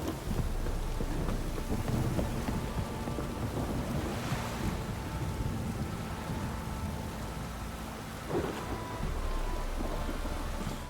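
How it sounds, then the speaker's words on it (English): Thunderstorm in The Witcher 3: Wild Hunt video game: dense, steady rainfall pours continuously while low thunder rumbles underneath, with a sharper crack of thunder partway through. "Quite a storm this evening."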